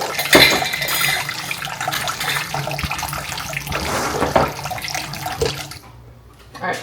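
Water runs steadily into a measuring cup for sourdough discard sandwich bread, a close, continuous splashing pour that lasts several seconds before thinning out near the end.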